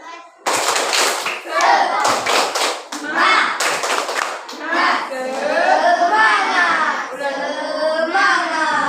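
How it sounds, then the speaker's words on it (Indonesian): Children doing the rhythmic Indonesian tepuk semangat spirit clap, sharp bursts of clapping in patterned groups, close and loud, alternating with children chanting together. "Tepuk semangat dulu, berdiri dulu."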